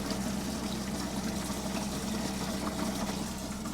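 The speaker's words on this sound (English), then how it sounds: "this is with dual pumps on" Dual water pumps hum steadily while water sprays and splashes continuously, a constant churning rush with no voices.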